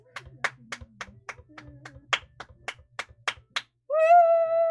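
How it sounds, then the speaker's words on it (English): A dozen or so sharp, separate claps at an uneven pace, close by, followed by a sustained high-pitched tone. "Can we get a round of applause?"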